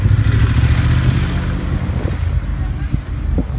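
A motorcycle engine rumbles on a street in Cannes, a close, loud, steady low growl with light clattering over it that barely varies throughout.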